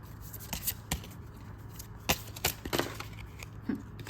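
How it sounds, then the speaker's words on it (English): Tarot card deck being shuffled by hand, with scattered soft riffles, slaps and papery snaps at irregular intervals, close and fairly quiet over a low steady hum. "Also going to shuffle out of this and see which ones want to come out."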